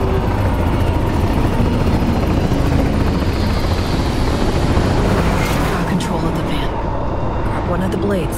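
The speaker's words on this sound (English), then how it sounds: "And U.S. combat choppers buzz in the free city of NC." US combat helicopter in the video game Cyberpunk 2077 Phantom Liberty: a loud, continuous rotor roar close by, heavy and unbroken throughout, with voices faintly underneath.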